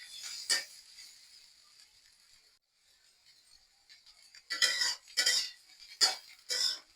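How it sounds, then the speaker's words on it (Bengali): Potato bhaji frying in a pan, stirred with a spatula: a faint steady sizzle broken by a handful of sharp scraping and clinking strokes, one early and a cluster toward the end, close and without talking. "এখন শুধু কতক্ষণ পর পর নেড়ে দিতে হবে।"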